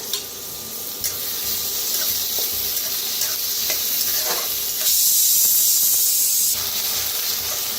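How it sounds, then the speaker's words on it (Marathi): Onion, curry leaves, green chili and crushed garlic fry in a hot pan with steady sizzling and hissing, close and fairly loud, with occasional scraping stirs and a louder burst of sizzle near the end. "छान असं भाजून घेऊया कांदा आणि कढीपत्ता, मिरची, लसूण"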